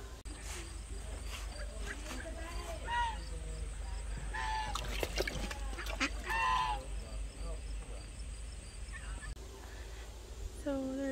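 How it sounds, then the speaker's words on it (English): A flock of geese honks repeatedly on a nature hike, loud overlapping calls clustered mid-clip over steady outdoor background noise, with brief voices under them. "if you guys hear that really loud honking in the background, that's just a bunch of geese."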